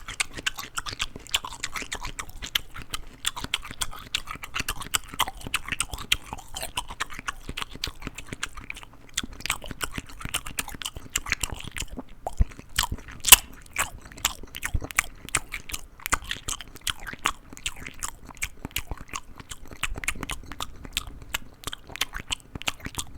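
Crunchy raw celery is bitten and chewed close to the microphone, with a long run of crisp, rapid crunching bites and wet mastication that grows denser and louder partway through.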